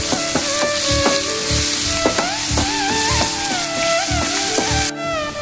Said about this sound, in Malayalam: വറുക്കാൻ ഉപയോഗിച്ചിരുന്ന വെളിച്ചെണ്ണയിലേക്ക് നമുക്ക് കുറച്ച് പച്ചമുളക്, കുറച്ച് ഇഞ്ചി, കുറച്ച് വേപ്പില, ചെറുതായി കഴിഞ്ഞ സവാള, ഇതെല്ലാം കൂടി നമുക്കൊന്ന് ഇളക്കി ഒന്ന് വാടാനായിട്ട് വെക്കാം